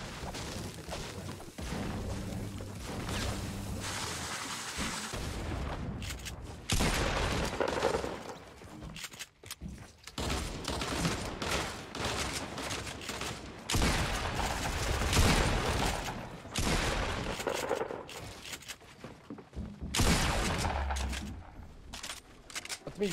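Gunfire in a solo battle royale shooter game, dense and continuous, with repeated loud shots and bursts throughout, near and heavy, mixed with other game noise.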